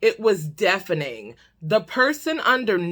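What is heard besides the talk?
None of the usual background noises is heard.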